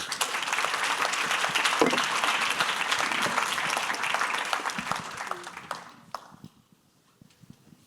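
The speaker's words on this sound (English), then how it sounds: "Let's give them one more round of applause." Audience applause closing a hotel-industry panel discussion on dynamic pricing, dense steady clapping from a crowd that carries on for several seconds and then thins out and dies away.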